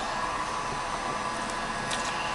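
A heat gun runs on its lower setting, a steady airy blowing roar with a faint motor hum, close and continuous throughout.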